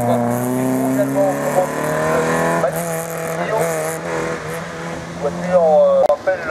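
A race car at the 2024 Quettreville hill climb, its engine droning steadily with rising and falling pitch as it passes, while a commentator talks over it throughout; a sharp knock near the end.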